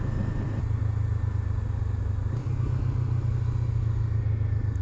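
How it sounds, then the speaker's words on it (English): Motorcycle fitted with a catted Akrapovic exhaust system, idling in a deep, bassy, steady low rumble that is not too loud, heard alone at close range. "This bike does sound nice. It's not too loud, it's really bassy. This has got the Acra system on it."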